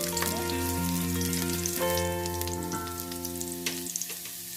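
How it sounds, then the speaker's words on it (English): Chopped garlic toasting in a hot pan for a coconut pumpkin and shrimp dish, a steady close sizzle with a faint tonal ringing layered over it, no talking. "Burn the garlic, just a little bit of it, just to toast it a little bit."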